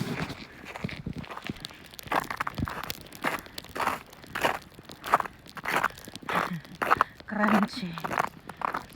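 Footsteps crunch across icy snow in a frozen neighborhood after a snowstorm, a steady walking rhythm of close, crisp crunches, with a person talking over them.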